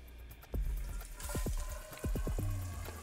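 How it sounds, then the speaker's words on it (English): Clean water pours into a pipe and lower test chamber of a FloodSafe backflow device, with bursts of gurgling and bubbling that come in two louder surges over a steady watery rush. "We will fill the pipe and lower chamber with clean water up to the minimum test level."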